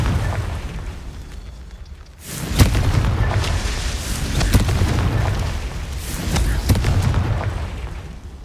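A Confringo fire spell explodes in the Hogwarts Legacy video game, a sudden loud boom after a brief hush, followed by a rumbling, crackling roar that swells again in a couple of later bursts.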